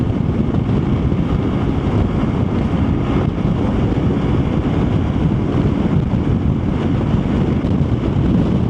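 Loud, constant wind roar buffets the microphone, a dense low rumble with no letup, while riding at speed on an open motorcycle near Bozüyük, Turkey.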